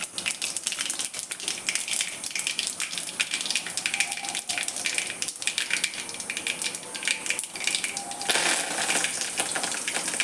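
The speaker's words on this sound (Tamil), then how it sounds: "கடுகு பொரிஞ்சிடுச்சு" Mustard seeds crackling in hot oil with curry leaves, a dense, continuous run of sharp pops and spatters close by, lasting throughout without speech.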